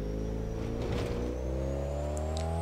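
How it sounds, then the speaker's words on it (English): In Assetto Corsa, a car's engine drones steadily while driving on a road, the pitch slowly climbing as it accelerates, with a faint high turbo whine riding over the engine; no one speaks. "There goes the turbo again."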